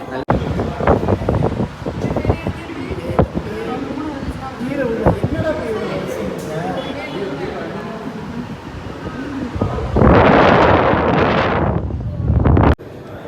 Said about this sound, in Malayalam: നല്ല കാറ്റ് കിട്ടുന്നുണ്ട്